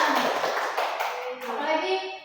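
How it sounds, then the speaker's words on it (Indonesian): Children clap together in a classroom, a dense, steady patter of many small hands lasting a couple of seconds, with young voices calling out over it. "Iya, betul, tepuk tangan."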